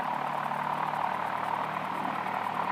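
A Piper Cherokee aircraft engine idles at 1000 RPM, a steady, even drone heard from inside the cabin, constant in loudness throughout with no talk over it.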